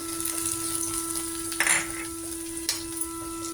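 Chopped onions and green chillies frying in a hot pan, giving a steady soft sizzle with a couple of brief louder bursts as they are stirred.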